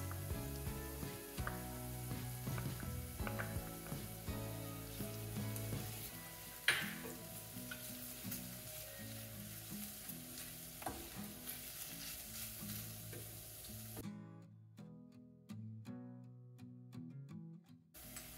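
Chili and tomato paste sizzle and fry in a hot pan while being stirred, a steady close crackle with occasional scraping, no talking.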